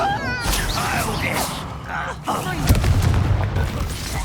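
Spell effects from the Hogwarts Legacy video game burst and boom in a dense, continuous battle mix, with a voice shouting incantations over the blasts.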